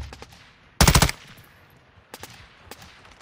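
Gunfire in a battle-royale style shooter video game: a loud, dense automatic burst near the start, followed by a few sharper isolated shots further off, with quiet game ambience between.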